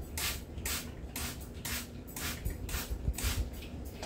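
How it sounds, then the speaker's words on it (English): Repeated spritzes of organic corn silk pesticide from a spray bottle onto the soil of a potted dracaena, about eight short hissing bursts in an even rhythm, close and fairly soft. "I sprayed the top of the soil in case any of it was dry"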